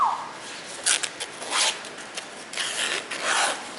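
Scissors cutting, a series of close, crisp rasping snips and rubbing strokes repeating in an irregular rhythm, loud and alone.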